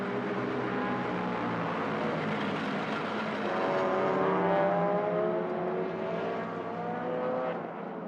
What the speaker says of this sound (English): That's another car that's come in for a second pit stop.